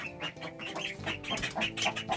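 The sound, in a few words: duckling and chickens in a coop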